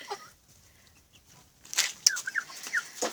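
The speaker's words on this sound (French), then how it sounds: "j'ai un coq bantam de Pékin noir caillouté blanc. Là, une petite poule allemande naine dorée." Black-mottled-white bantam Pekin rooster and small golden German dwarf hen giving a few close, short clucks and squawks after a quiet start.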